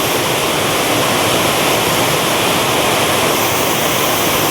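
Heavy rain pouring down at a depot, a loud, dense, continuous hiss that fills the whole space without a break.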